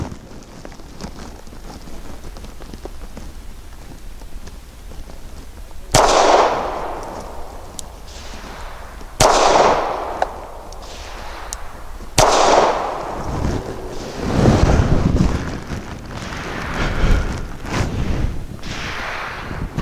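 Shots from a Springfield Armory 380 911 pistol firing 95 grain full metal jacket target rounds on an outdoor range, three sharp loud reports spaced a few seconds apart, each followed by a ringing decay over steady wind noise.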